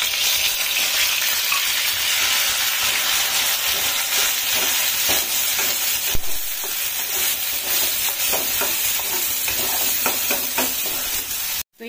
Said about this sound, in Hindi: तो ये देखिए फ्रेंड, हमारा हल्दी भुन गया है।